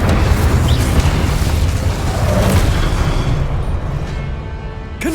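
An Incendio fire spell cast in a wizarding video game makes a loud, sustained roaring whoosh that fills about five seconds before tapering off slightly at the end.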